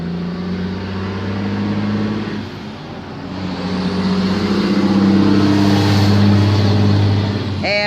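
A large dump truck rumbles past, its engine loud and droning, swelling as it nears and passes close by, with the pitch shifting as it moves away; no one speaks.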